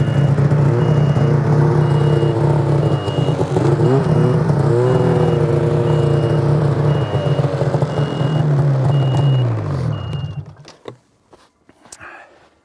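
An Arctic Cat snowmobile engine drones and revs steadily as the sled climbs a deck ramp onto a truck, holding a loud near whine with small pitch swings before cutting off abruptly, leaving quiet clatter.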